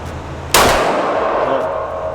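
One sharp Glock 17 pistol shot at a shooting range, a loud close crack that rings and decays over a low background hum.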